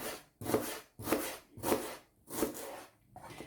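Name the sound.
knife slicing onion into rings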